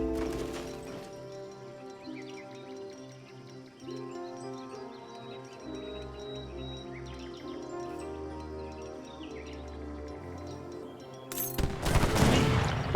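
Gunfire crackles in a strategy video game battle involving Janissaries and Falconets, a scattered volley under steady background music that swells into a dense, louder burst near the end.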